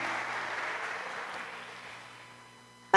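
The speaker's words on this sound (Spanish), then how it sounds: "démosle un fuerte aplauso a toda la audiencia que nos está escuchando" Church audience applauding at a Spanish-language worship service, a dense wash of clapping that slowly fades over a few seconds before a sudden loud burst at the very end.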